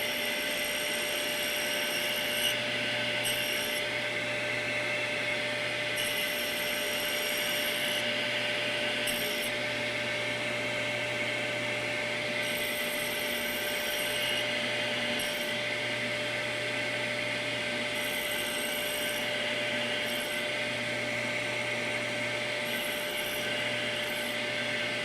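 Router-type power tool cutting the nut slot in a Fender-style fretboard for a Telecaster build, a steady loud whine with a constant tone and a faint low hum pulsing in and out, running unbroken and close.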